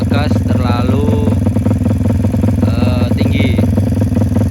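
A Suzuki Satria FU motorcycle converted from carburetor to fuel injection, revving close and loud in two rising bursts over a steady idle, rev limiter set at 12,000 rpm.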